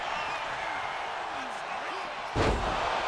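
A wrestling slam in the WWE 2K26 video game lands as one sharp, loud impact near the end, rising over steady arena crowd noise and commentary.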